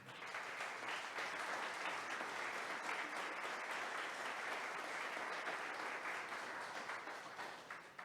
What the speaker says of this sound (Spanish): Y ahora le podemos dar un aplauso, lógicamente.